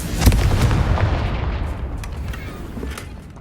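Fiery Confringo spell blasts in Hogwarts Legacy, a loud close burst followed by a booming, rumbling explosion that slowly fades away.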